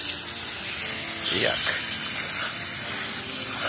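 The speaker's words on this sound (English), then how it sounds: "we're gonna grab the water hose and just spray it down from the inside actually out" A garden water hose sprays steadily onto a dirty K&N air filter, making a continuous hissing rush at close range while a person briefly speaks.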